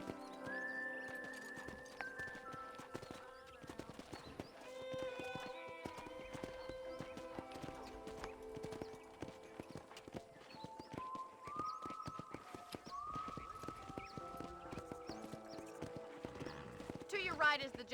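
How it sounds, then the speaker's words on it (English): Hooves clip-clop steadily in Red Dead Redemption as a horse is ridden, with frequent whinnies and neighs running alongside people talking throughout. "let's see if you can still ride a horse"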